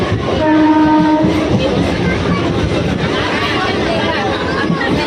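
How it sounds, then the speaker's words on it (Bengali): A train rumbles and rattles steadily as it pulls away from Sonarpur station, with a horn-like tone early on and people chattering over the noise. "তো ট্রেনটা এই সোনারপুর ছাড়ছে"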